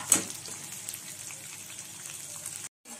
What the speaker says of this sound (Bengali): এটা একটু ভাজি।